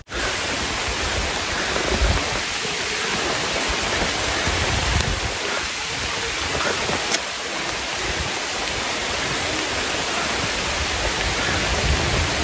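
Heavy rain pours continuously on a hiking trail, a loud, even roar of downpour that holds steady throughout with no voices.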